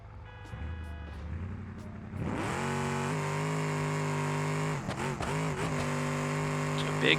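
A car in BeamNG launches down a drag strip, hitting about 192 miles an hour with a power wheelie; the engine roars up from idle and holds a loud, sustained high-rev drone with brief dips from gear changes.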